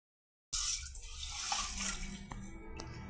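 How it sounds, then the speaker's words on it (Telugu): Water pours steadily into a cooking pot for vegetable biryani, a continuous splashing rush that starts abruptly and runs close and fairly loud with no voices. "ఇక వాటర్ మామూలుగా నార్మల్గా యాడ్ చేస్తున్నామండి"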